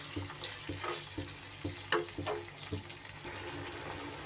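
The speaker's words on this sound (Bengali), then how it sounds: "খুব সুন্দর করে এবার কষিয়ে নিতে হবে।" Marinated cauliflower sautéed with ginger paste in a pan, a soft steady sizzle broken by scraping stirs at an irregular rhythm, close and moderately quiet.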